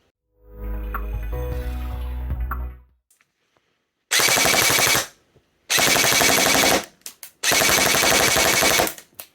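Double Eagle UTR556 airsoft rifle firing full auto, three loud, sustained bursts of rapid mechanical shots separated by short pauses, preceded by a brief low hum.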